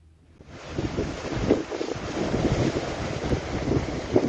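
Rough Arabian Sea surf at Porbandar roars steadily ahead of Cyclone Shakti, with gusting wind buffeting the microphone, the crash of waves rising and falling continuously.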